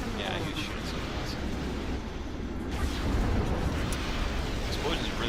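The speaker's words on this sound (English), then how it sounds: "Explosions are really pretty in this game." Dense, rumbling explosions roll on continuously in the strategy game Ashes of the Singularity, a loud wall of booms and crackling bursts with no pause.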